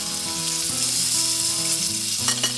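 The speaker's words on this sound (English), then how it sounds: "Hear that sizzle." Steady, loud sizzling and crackling of gold band snapper frying in a hot oiled pan, with faint scraping clinks near the end.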